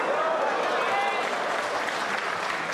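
A partisan crowd at a pool match breaks into steady, loud applause that fills the whole short stretch, with crowd noise mixed in.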